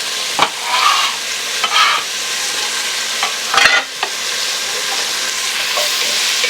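Onions and celery sautéing in rendered bacon fat for New England clam chowder, a steady sizzle with a few louder stirring scrapes and clatters breaking through, no voices.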